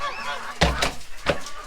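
A goose honks twice, close and fairly loud, in short harsh calls spaced about half a second apart, over light background noise on a farm where rare ducks are hatched.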